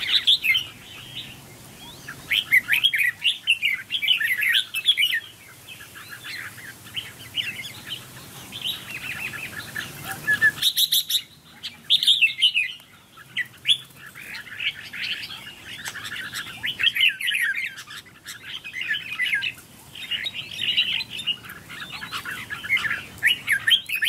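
Decoy birds and wild birds chirp and trill in rapid, busy bursts outdoors, loud and close, with brief pauses between flurries and no talk.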